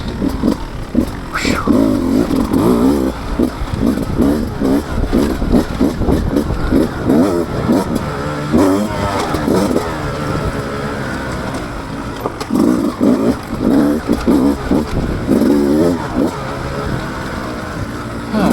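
A 2024 Beta 200 RR Race Edition motorcycle engine on a first ride revs hard and loud for the whole stretch, with a repeating rise and fall of the throttle and an occasional voice underneath.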